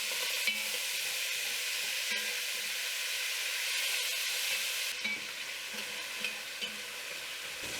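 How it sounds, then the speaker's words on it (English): Stew meat fries in a little bacon grease in a Dutch oven, giving a continuous close sizzle with light crackles that eases slightly in the second half. "I've left a little bit of bacon grease in my Dutch oven to fry my stew meat"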